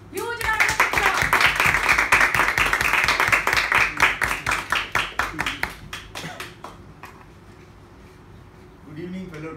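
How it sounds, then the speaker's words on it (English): Audience applause at a Toastmasters meeting: dense clapping from a room of people that thins into scattered individual claps and fades out, with a voice starting up at the very end. "Huge round of applause."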